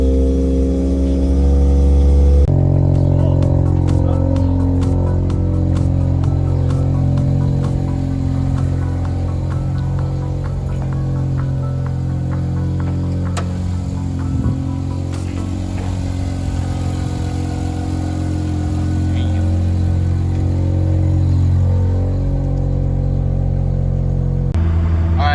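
A Mazda RX-7 FD rotary engine warming up with the clutch in, starting with a sudden jump in level and then idling steadily with a loud, close, droning hum that stays fairly constant throughout.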